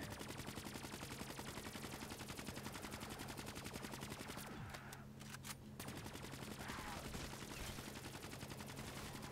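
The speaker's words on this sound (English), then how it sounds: "That literally took like half of my magazine to shoot that one zombie's head off." Rapid automatic gunfire in a zombie shooter video game, a continuous dense burst of shots, fairly faint, with a short gap midway before firing resumes.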